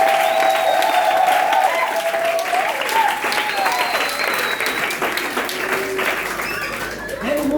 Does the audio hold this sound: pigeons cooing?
no